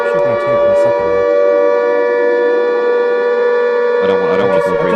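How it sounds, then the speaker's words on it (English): A siren sound effect plays loud and steady throughout, a sustained wailing tone with layered harmonics, while low voices or rumble come and go underneath at the start and end. "I've just got so a siren sound effect for the YouTube thing"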